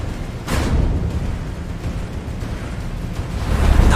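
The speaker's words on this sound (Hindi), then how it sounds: "धमाके के साथ भारी लोहे का दरवाजा अंदर की तरफ गिरा।" An animated explosive charge blasts open a heavy armored iron engine-room door with a sudden broad boom, then a rumbling roar that lingers loudly for several seconds.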